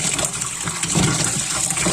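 Water sloshes and gushes briefly as dried fish is soaked before washing, a short burst of splashing liquid close by.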